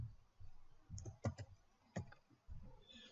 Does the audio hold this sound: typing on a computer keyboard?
yes